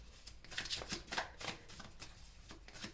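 Tarot cards being shuffled by hand, soft riffling bursts repeated in a quick rhythm, faint and close, with no talk.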